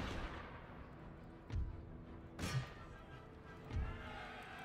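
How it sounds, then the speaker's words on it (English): Artillery fires across a battlefield in Empire Total War: three dull, distant booms spaced a second or so apart over a faint, steady battle hum, all quite low in volume. "good artillery shots"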